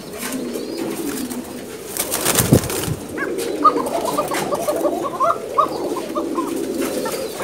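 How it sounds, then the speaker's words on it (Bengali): Basiraj kokka pigeons cooing in a loft, a chorus of rapid, repeated coos building after a short thump, close and fairly loud over light background noise. "বাসিরাজ কক্কা, খুব ভালো কক করে, ভালো সুন্দর কক্কা"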